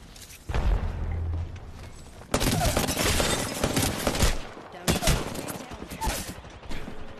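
Rapid gunfire and explosive bursts from a video game shootout, loud and dense, coming in several long volleys with brief gaps between them.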